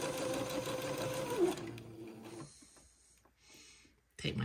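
A sewing machine stitching a quarter-inch seam along the leg opening of a garment, a quick close whirring burst that stops after about two seconds and then resumes briefly at the end.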